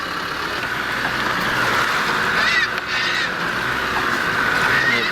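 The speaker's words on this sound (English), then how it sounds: "Birds here." Several birds call and chirp over a steady outdoor background at Timms Creek, with a few brief higher whistling notes standing out in the middle.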